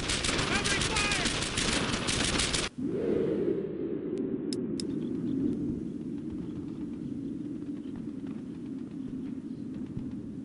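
Sustained covering gunfire in the Brothers In Arms: Earned In Blood video game: a dense burst of rapid rifle and machine-gun shots, loud and close, gives way to a low rumbling roar with scattered distant pops and faint shouting voices.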